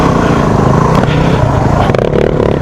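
KTM or Beta dirt bike engine on a forest trail ride, a steady buzzing motor drone that is loud and close, with rough mechanical clatter and shifting pitch throughout.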